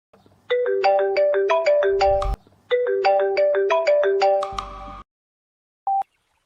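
A phone ringtone plays a bright melodic chime phrase twice in a row, each run of rapid rising notes lasting about two seconds, followed by silence and one short final beep.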